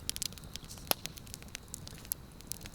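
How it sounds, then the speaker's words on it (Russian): Pine logs crackle in a night campfire at a fishing camp, giving sparse, sharp pops and snaps at irregular intervals over a low, quiet background hiss. "Трещит, искры летят,"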